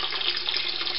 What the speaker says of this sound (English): the water stream's starting to build up.